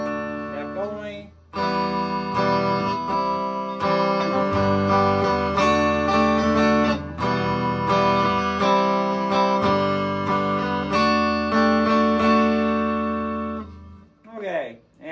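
A Fender Squier Sonic Stratocaster HSS on its neck pickup plays a loud run of chords and picked notes for over ten seconds, alone, stopping briefly midway and fading at the end.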